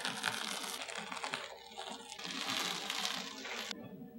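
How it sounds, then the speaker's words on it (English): Masking tape peeling away from the edges of an acrylic painting, a close crackling, crinkly tearing that runs steadily for about three and a half seconds before stopping abruptly. "Now let's peel off the tape and see what it looks like."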